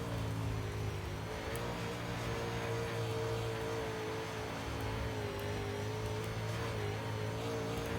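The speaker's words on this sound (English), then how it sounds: "it's just a matter of me driving it through the corner with the throttle" Dirt modified race car engine from iRacing's UMP class, droning steadily as it is driven through a corner on throttle, with a continuous loud engine hum and rumble filling the whole stretch.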